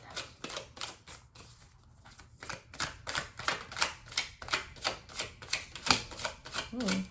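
Tarot cards are shuffled in quick, rhythmic riffles and taps, a close run of crisp papery flicks repeating at an even pace for several seconds.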